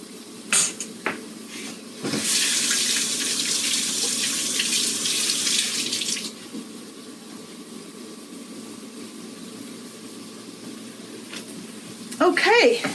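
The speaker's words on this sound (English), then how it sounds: "And then I'll just rinse my hands off under the tap again." Hands rinsed under a running kitchen tap, a steady hiss of flowing water for about four seconds, quiet before and after, with a brief clatter near the end.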